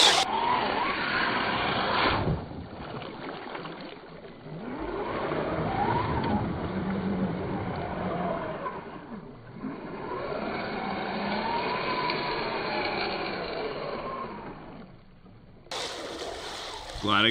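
Radio-controlled Toyota Land Cruiser LC70, a Boom Racing BRX01 with a snorkel, churning through deep muddy water, its motor whining and water sloshing and splashing continuously, close and fairly loud, with a brief drop near the end.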